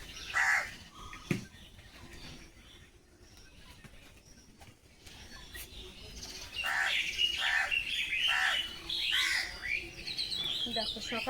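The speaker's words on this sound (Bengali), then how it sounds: "দেখো সকালে তো পাখি ডাক আর কাকের ডাক" Morning birds chirp and crows caw around a rural village home: a sharp call and a thud early on, a quieter lull, then repeated bursts of harsh cawing and chirping that grow busier toward the end.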